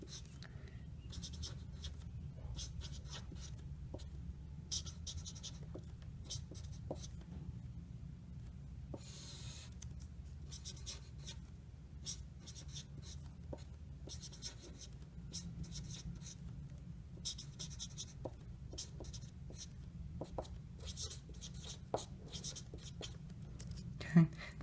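Pen scratching out math by hand while working an implicit differentiation problem on graphs, soft steady scribbling strokes with small ticks, faint and close under a low room hum.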